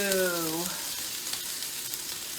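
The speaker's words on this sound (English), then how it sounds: "We got the chicken boiling." Chicken boils in a covered pot for Southern cornbread dressing, a steady bubbling hiss that carries on alone after a brief voice at the start.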